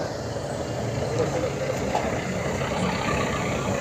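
A heavily overloaded truck rolls past on a road near a newly built boat bridge, giving a steady, loud rumble of engine and road noise that holds evenly through the whole stretch, with no clear rise or fall.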